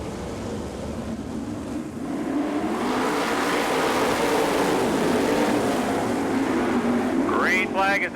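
Sprint cars from the All Star Circuit of Champions roll toward the start of a 1999 heat race at Bloomington, Indiana, their engines a steady, broad roar that swells after a couple of seconds, with a voice talking over it.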